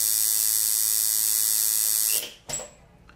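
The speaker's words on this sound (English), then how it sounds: "an unloaded machine is going to run differently than one that has the needle on it and everything set up." An unloaded tattoo machine, with no needle fitted, gives a steady close electric buzz for about two seconds and then cuts off. A brief clack follows, then quiet.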